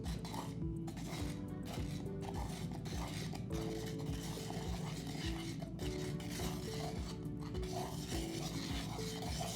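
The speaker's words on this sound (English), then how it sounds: "We're going to hand mix for 30 seconds." Continuous rhythmic scraping and stirring of thick dental investment paste mixed by hand in a bowl, gritty strokes repeating steadily and close by, with no talking.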